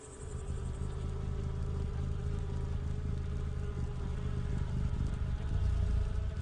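A colony of honeybees guarding the entrance of their hive, a steady dense buzzing hum filling the background at close range, continuous and even throughout with no voices.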